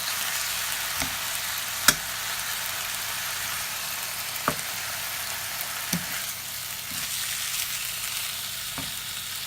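Lamb steaks frying in a pan, a steady close sizzle broken by a few sharp clacks and thumps as they are turned over, no voices.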